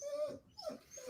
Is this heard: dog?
yes